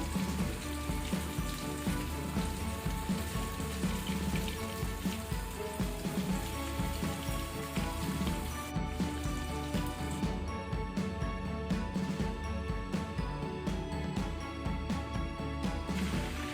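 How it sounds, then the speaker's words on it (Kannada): Noodle-wrapped prawns fry in hot oil over a medium flame, giving a steady, dense crackling sizzle that continues without a break, with a low hum underneath and no voices. "ಈಗ ನಾವಿಲ್ಲಿ ರೆಡಿ ಮಾಡಿಟ್ಕೊಂಡಿದ್ದನ್ನ ನಾವು ಫ್ರೈ ಮಾಡ್ಕೊಳ್ಳುವ ಒಂದೊಂದಾಗಿ"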